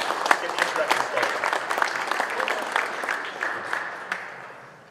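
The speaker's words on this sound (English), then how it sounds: "Please give them a quick round of applause" An audience at a musky fishing catch-and-release seminar at the Wausau Musky Expo claps in a dense, steady round of applause that fades slightly toward the end.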